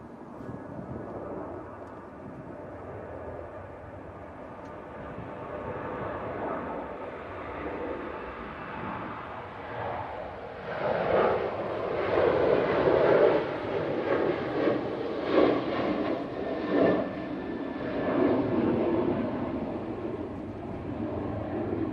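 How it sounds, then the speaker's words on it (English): Ryanair Boeing 737 on its takeoff roll at Manchester Airport in stormy weather: jet roar builds from a distant rumble to a louder, throbbing peak past the midpoint, then holds. "Ryanair 737 now on the roll."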